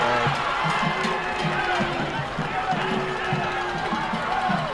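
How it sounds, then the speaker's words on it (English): A high school football crowd at a Lake View Chiefs vs Snyder Tigers game roars and shouts in reaction to a penalty flag, a steady, loud wash of voices while an announcer talks over it. "It's the crowd excited, expressing their opinion."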